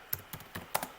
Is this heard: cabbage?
no